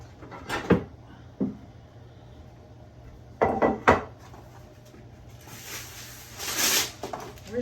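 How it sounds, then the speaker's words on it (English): Getting another pan out of a kitchen cupboard: a few sharp clanks and knocks of metal and wood with cupboard handling, separated by quiet pauses, then a louder rattling scrape near the end. "let me get another pan out"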